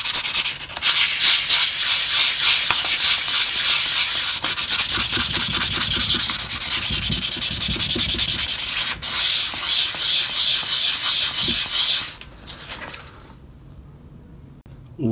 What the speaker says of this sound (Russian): берем шкурку 320 и начинаем, прям не боясь, вот это все шкурить